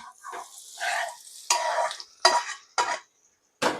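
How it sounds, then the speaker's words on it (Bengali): Meat pieces added to fried rice in a pot for biryani, bursts of loud close sizzling and scraping as it is stirred, broken by short quiet gaps. "চাল ভাজা হয়ে গেছে এখন আমি মাংসগুলো দিয়ে দেবো"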